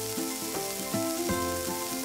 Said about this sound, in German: Das muss so richtig zischen und brutzeln.